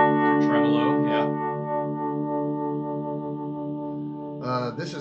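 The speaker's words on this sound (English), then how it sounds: "This is actually a panning tremolo that it's set on." An electric guitar plays through a pedal set to panning tremolo, with spring reverb on the amp. It holds a steady, sustained chord that pulses slightly, and short bits of talk sit near the start and the end.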